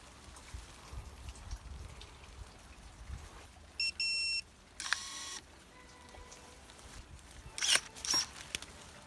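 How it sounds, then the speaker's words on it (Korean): Electric pruning shears whir in brief bursts and snip through a thick, hard European viburnum branch outdoors, with short electronic beeps and motor buzzes over a steady background hiss. "손으로는 꼼짝도 안 하더니 전동가위를 대니까 한 방에 나갑니다."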